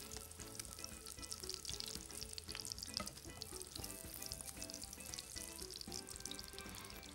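Kebabs shallow frying in oil over a slow flame, a steady dense sizzle and crackle with faint clinks of utensils, continuous and close throughout with no talking.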